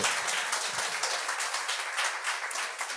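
Audience applause at a live French-language talk show, a dense, steady wash of many hands clapping that holds at an even level throughout, with no voices standing out.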